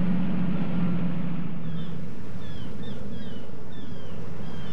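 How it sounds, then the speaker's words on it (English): Cartoon tugboat engine, a low, steady grumbling rumble that holds throughout, with a stronger hum at the start and faint chirping bird-like calls over it later on. "off he went, rumbling his engine grumpily"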